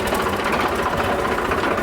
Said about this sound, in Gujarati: તો આ નાનું ટ્રેક્ટર વારવામાં સરળતા પડે છે